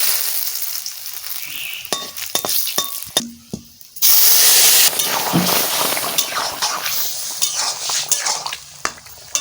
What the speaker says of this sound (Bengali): তেলের পরে দেব পাঁচফোড়ন শুকনো লঙ্কা তেজপাতা